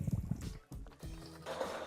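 Water poured into the cooling system of a BMW N54 wagon, a faint trickling and gurgling of liquid with a brief pause midway, quiet and close.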